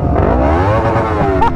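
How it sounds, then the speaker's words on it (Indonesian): A loud motorcycle engine revs continuously at full throttle, its pitch climbing and falling in sweeping harmonics, with a brief higher whine near the end; the engine is smoking. "Geber, geber, geber."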